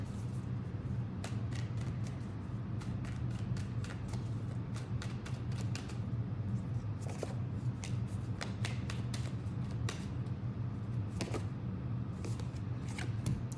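Cards being shuffled steadily, a stream of crisp riffling flicks and taps over a low room hum, close and fairly loud throughout.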